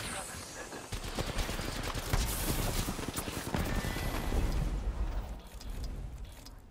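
Rapid gunfire in the Apex Legends video game, with dense bursts of shots and impacts rattling continuously and loudly while a player talks over it.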